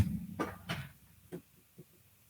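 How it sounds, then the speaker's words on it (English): Knocking on a wooden surface during a college sports podcast, a couple of sharp close knocks followed by two quieter taps, with no talking. "I'm going to knock on wood."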